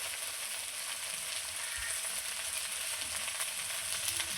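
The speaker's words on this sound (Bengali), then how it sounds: "আমি ঢ্যাঁড়সটা একটু ভেজে নিলাম তেলের মধ্যে" Okra frying in hot oil, a steady close sizzle and crackle running evenly throughout with no voices.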